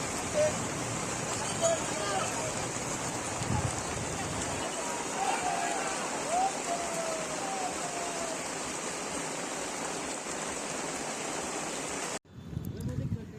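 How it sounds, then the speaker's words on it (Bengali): Steady rain hissing over a crowd of barefoot pilgrims walking the road to Tarakeshwar, a dense continuous wash with crowd murmur and footsteps underneath, cutting off abruptly near the end. "দেখো কত বৃষ্টি নামিয়ে দিল আর এই বৃষ্টির মধ্যে কত ভক্ত কত পুণ্যার্থী সবাই হাঁটছে"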